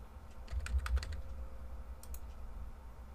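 Short burst of keystrokes on a computer keyboard while a password is entered: a quick cluster of close clicks early on, a pause, then two more taps, over a low background hum.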